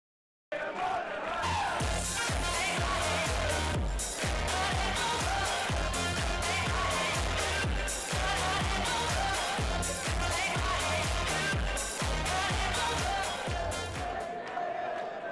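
Arena crowd at a darts quarter-final in Manchester roaring as a player walks on, a loud rhythmic mass of cheering and chanting with pounding beats that bursts in abruptly and holds steady throughout.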